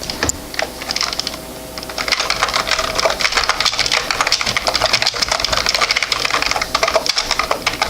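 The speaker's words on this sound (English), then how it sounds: "Sorry for the loud typing." Loud, rapid typing on a computer keyboard, dense irregular clacks running almost continuously after a brief pause near the start, close and alone with no talk.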